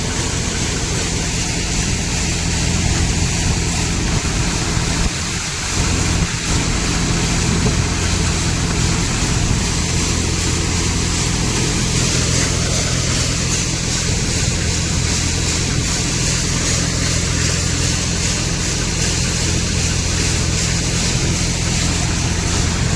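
A tractor engine runs with a trolley hitched on, a steady loud drone with a constant low hum that barely varies, briefly interrupted by a short thump, close by and with no voices.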